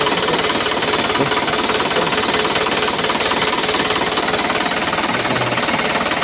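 A 2011 Isuzu Panther LS engine idles close by, a steady, even rumble with a fast regular ticking rhythm and no talking.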